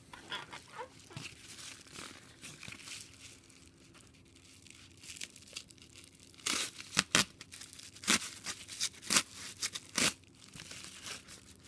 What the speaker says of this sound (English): I thought I had something I could cut here.